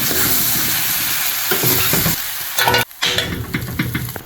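Vegetables stir-frying in a pan for pancit miki guisado give a loud, close sizzle with scraping stirs and brief bursts as the food is tossed, briefly dipping quiet before the sizzle resumes.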